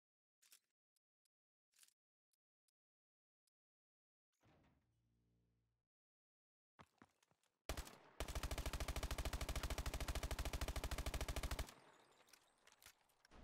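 Automatic weapon fire in the Call of Duty Advanced Warfare video game: a few scattered single shots and a short mechanical rattle, then a loud, sustained burst of rapid gunfire lasting about four seconds, trailing off into quieter shots.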